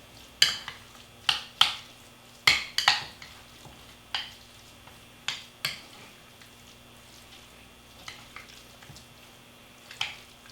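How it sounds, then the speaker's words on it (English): Garlic, pepper and salt stirred into ingredients in a pan, with a series of sharp metallic scrapes and clinks of a utensil against the cookware at irregular intervals over a faint background hum. "I'm going to stir all that up. Make sure that garlic gets incorporated in there nicely"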